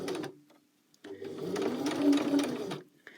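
A sewing machine stitches fabric for a rice pouch hand warmer, running in a short burst, pausing briefly, then buzzing steadily for a couple of seconds, close and clear.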